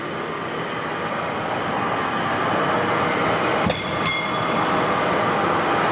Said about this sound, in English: Here you can see this is our vertical lathe.